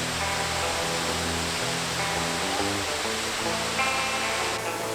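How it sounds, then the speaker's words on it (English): Waterfall in Spearfish Canyon, South Dakota, a constant broad rushing roar of falling water, steady and fairly close with no voices. "and we are checking out the waterfalls."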